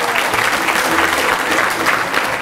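A seated audience at a religious lecture in Or Yehuda bursts into dense, steady applause, loud and close, sustained for the whole stretch without a break.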